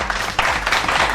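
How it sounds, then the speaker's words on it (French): An audience at the season final of a dance show applauds in a dense, steady burst of clapping that stays close and loud throughout. "Donc on applaudit pour Jaguar Dancer."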